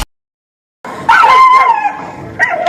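Two dogs attacking a tethered horse, with loud, close barking and yelping that bursts out after a short silence and keeps going in an agitated run, then flares up again near the end.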